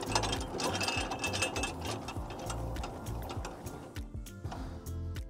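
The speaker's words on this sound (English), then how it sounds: "wind the leg down." A stabilizer leg on an MDC XH7.4 Xpedition Hauler camper being wound down with a speed brace: a rapid, rhythmic mechanical ratcheting clatter, steady and close, with a brief pause near the end.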